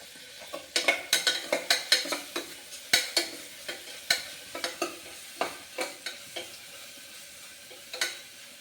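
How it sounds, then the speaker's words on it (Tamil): Mint and coriander leaves, with ginger and garlic added, are stirred in a hot pan for kuska, with a soft sizzle beneath repeated sharp scrapes and taps of a spoon against the metal. "இதை வதக்கிட்டு இப்போ இஞ்சி பூண்டு போட்டுக்கலாம்."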